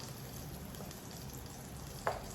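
Rainbow trout frying in a pan, a steady close sizzle and crackle throughout with one brief louder spatter near the end.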